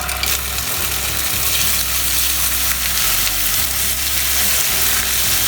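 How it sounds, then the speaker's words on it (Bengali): Onion frying in a pan with ginger garlic paste for a fish korma, a loud, close, constant sizzle and hiss with a low rumble underneath and occasional stirring scrapes, no voices. "আদা রসুনের বাটাটা দেওয়ার পর পেঁয়াজটাকে একটু ভালো করে ভেজে নেব"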